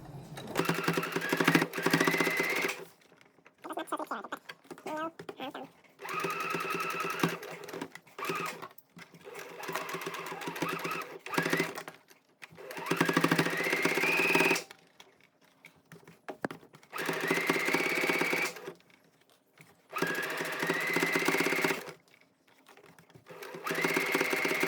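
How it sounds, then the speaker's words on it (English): A sewing machine stitches through elastic while shortening long-leg underwear, in several close bursts of rapid mechanical needle chatter separated by short pauses, with no talk. "I can hear when the needle is going through the elastic band"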